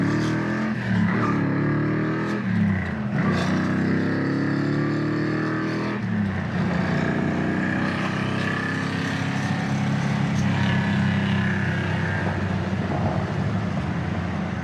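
A 1970 Plymouth Barracuda's V8 drones from inside the car while driving, rising through a few throttle pulls and gear changes in the first seconds, then settling into a steady, rumbling cruise with low exhaust growl.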